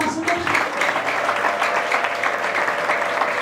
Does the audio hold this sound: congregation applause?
yes